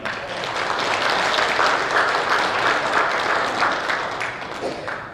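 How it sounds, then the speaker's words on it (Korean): An audience at an indoor political lecture event claps steadily, a dense, even wash of applause that holds for several seconds and then begins to fade. "큰 박수 부탁드리겠습니다."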